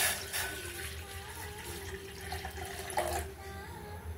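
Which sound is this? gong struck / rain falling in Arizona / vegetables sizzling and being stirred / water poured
water poured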